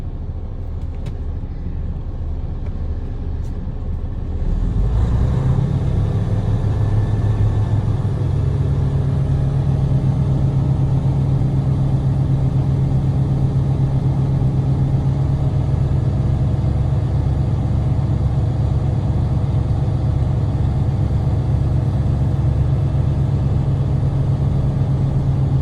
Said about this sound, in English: I'm gonna build my air pressure to the governor shutoff between 120 to 140 PSI.